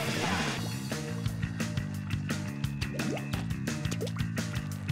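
Inklings swimming through ink in the Splatoon video game, with wet squishy splashes and dripping gurgles over a steady game music bed, alone without talk.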